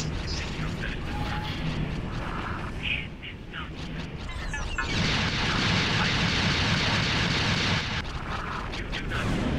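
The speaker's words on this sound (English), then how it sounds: "And we got fighters right above us, right up here." Fighter craft roar overhead in the space game X4 with a Star Wars patch, a rumbling, booming wash of engine noise and distant blasts that swells and fades over several seconds and grows louder near the end.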